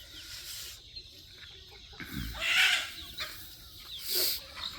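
Chickens in a farmyard, a few scattered close clucks and squawks over quiet outdoor background, with birds calling faintly between.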